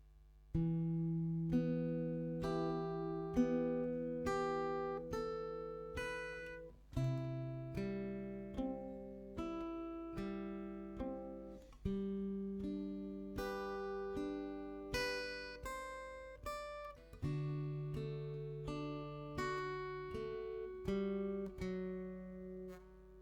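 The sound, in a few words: acoustic guitar chord rhythm played slowly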